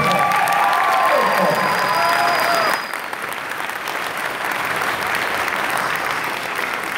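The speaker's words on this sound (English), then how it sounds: "So let's clap for that." Convention audience applauding at Tokyo in Tulsa, the Cox Business Center in Oklahoma, a dense, steady wash of clapping from a large crowd filling the space, with voices mixed in and the sound thinning somewhat after the first few seconds.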